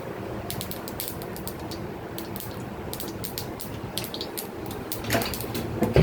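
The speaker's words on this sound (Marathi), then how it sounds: "चांगली मोहरी थडथड थडथड होऊन द्यायचं." Mustard seeds crackle and pop in hot oil while tomato chutney is being prepared, a faint, irregular scatter of sharp little snaps that grows busier and louder toward the end.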